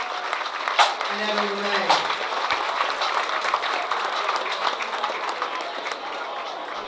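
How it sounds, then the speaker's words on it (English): A crowd at a high school athletic hall of fame induction ceremony applauds the drummers, sustained clapping and some cheering running throughout while a voice speaks briefly over it near the start. "Let's give a great round of applause for our extra drums"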